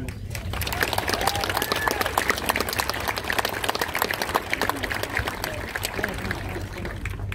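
Graduation ceremony audience applauding the top ten students as they stand, steady sustained clapping from a large crowd in a hall, continuous and even throughout.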